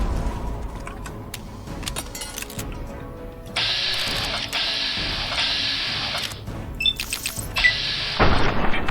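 Grenade blasts in a video game, a few booming bursts of broadband noise standing out over steady game sound, with a loud burst near the end.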